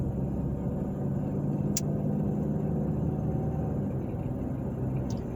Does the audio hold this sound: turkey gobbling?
no